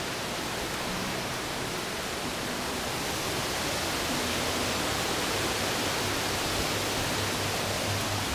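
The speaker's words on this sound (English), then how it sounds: "Here's the waterfall." Mill waterfall on the Keuka Outlet Trail, a steady broadband roar of falling water filling the whole stretch at an even, unbroken level with no voices.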